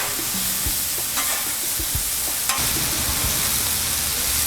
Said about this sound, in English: Once you get the vegetables in there, it cooks really fast.